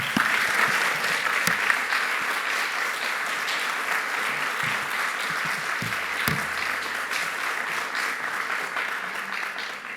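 Steady, full applause from a university lecture audience at UC Berkeley's School of Public Health, welcoming a guest speaker; dense continuous clapping holds at an even level throughout with no talk over it.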